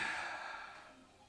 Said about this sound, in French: Inspirez. Expirez.